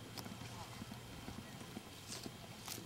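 Quiet, irregular hoof clops of a horse walking over logs on a trail ride, soft thuds spaced unevenly under faint background noise.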